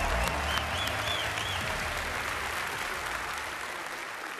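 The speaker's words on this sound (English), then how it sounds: "another round of applause" A large crowd at the Bethesda E3 2015 press conference keeps up dense, steady applause from start to finish, with brief tones from the venue sound system mixed in.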